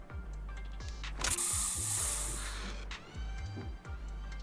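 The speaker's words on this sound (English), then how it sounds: "Have a taste of this special Bang-Boo spray!" A spray hisses in a video game, one loud burst of about a second and a half rising over low rumbling game sounds and scattered mechanical clicks and whooshes.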